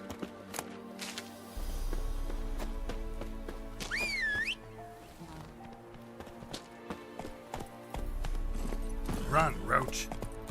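Horse hooves clip-clopping as Roach runs in The Witcher 3, a steady rhythmic patter under game music, with a whistle and a short voice line briefly over it.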